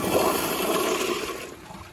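A Toto CT705 toilet on a piston flushometer flushing with a loud rushing gush of water, close by, tapering off toward the end, no talk.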